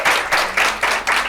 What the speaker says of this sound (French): Accords, applaudissez également.